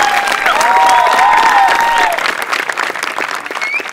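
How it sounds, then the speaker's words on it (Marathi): Studio audience applauding during a Marathi comedy sketch show, dense clapping that carries at full strength for about two seconds, then thins and tapers with some shouting mixed in. "टाळ्या सरांसाठी."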